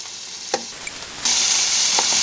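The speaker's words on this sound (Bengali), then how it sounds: "মাছটা আমি হালকাভাবে একটু ভেজে নিব।" Fish frying lightly in oil in a curry cooker, a quiet sizzle with a couple of soft knocks early on, then a louder, steady hiss of oil that holds to the end.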